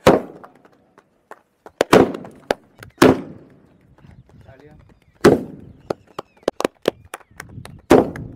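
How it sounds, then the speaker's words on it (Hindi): Firecrackers burst at a welcome ceremony for farmers, a string of sharp, loud, close cracks and pops in irregular bursts with echoing tails, some clustered in rapid runs, over faint background voices. "पटाखे भी पटका लिए"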